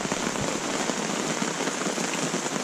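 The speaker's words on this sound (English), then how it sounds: "There's definitely worse things in the world than sitting under a tarp in the rain." Steady, dense rain pattering on a taut tarp overhead, a continuous close hiss with scattered heavier drops and no voices.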